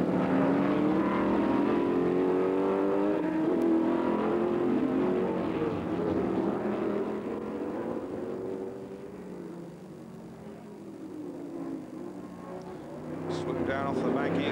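A historic Matra race car runs on the Montlhéry banking in a historic Grand Prix race. A loud, sustained engine roar holds throughout, dipping slightly in the middle and rising again near the end, while a commentator talks over it.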